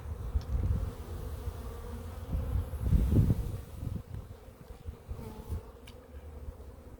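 Honeybees buzz around an open hive during an inspection, a low droning hum that swells and fades as bees move close to and away from the listener.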